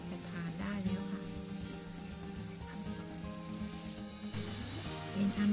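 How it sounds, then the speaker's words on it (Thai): Shrimp stir-frying with curry powder in a home kitchen pan, a steady close sizzle with scraping stir sounds running throughout. "เติมกุ้งลงไปผัดค่ะ"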